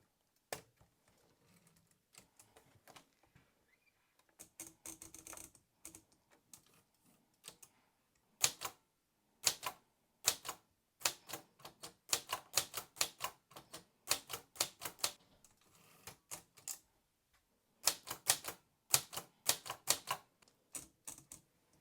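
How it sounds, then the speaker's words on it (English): A vintage typewriter typing onto a book page, sharp close clacks in irregular bursts with pauses, loud keystrokes alone in a quiet room. "And I typed it on a vintage book page."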